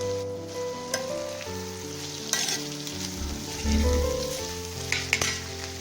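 Cut okra pieces sizzling in a pan with turmeric, with intermittent scraping and clinks as they are stirred and mixed, close and moderately loud.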